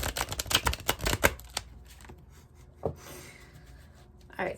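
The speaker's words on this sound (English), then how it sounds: "Do one more bridge shuffle so you guys can see I am shuffling." Tarot cards riffled in a bridge shuffle, a quick burst of crisp flapping and rustling strikes in the first second and a half, then a softer settling rustle and a couple of brief taps; close and fairly quiet.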